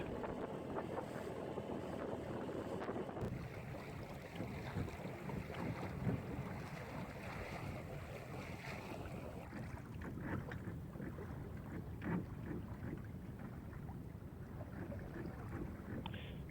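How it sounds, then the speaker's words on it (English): Steady wind rush and water noise aboard a sailboat cruising the Carquinez Strait on a flood tide, continuous and fairly faint, with no voices. "We're sailing down through the Carquinez Strait on the flood tide. The wind picks up and then goes light."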